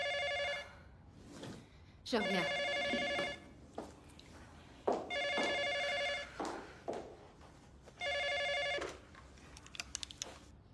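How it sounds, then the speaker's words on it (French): A telephone bell rings in four separate bursts with pauses between them, inside a room. A brief spoken line and some small handling noises come in the gaps. "Le téléphone sonne."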